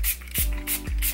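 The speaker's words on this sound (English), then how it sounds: "I'm just going to be setting my face with the Too Faced Hangover 3-in-1 setting" Too Faced Hangover 3-in-1 setting spray misted onto a face in short hissing bursts, three or four quick pumps close to the microphone with brief gaps between them.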